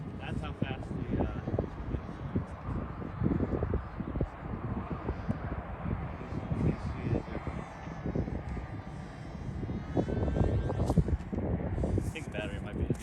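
A small radio-controlled airplane's engine drones steadily in flight under wind buffeting on the microphone, with people talking intermittently throughout.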